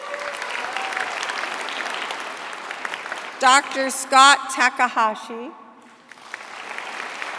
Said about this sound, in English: let's give all of them a hand